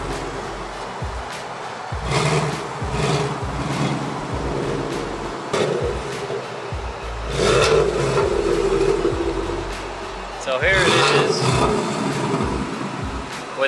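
A 2018 Ford Mustang GT with a manual MT82 gearbox and a Steeda X-pipe exhaust gives a deep, rumbling engine note, nearby, rising in several revving swells over a steady idle.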